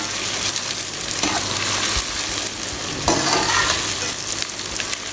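Onions frying in hot oil and browning for chicken biryani, a steady close sizzle with a few sharp stirring scrapes of a utensil against the pan, no voices.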